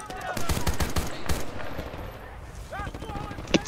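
Gunfire from Battlefield: Bad Company 2 multiplayer hits the player, heard as a quick cluster of sharp shots early on, followed by a few scattered game effects and a brief sharp blast at the close.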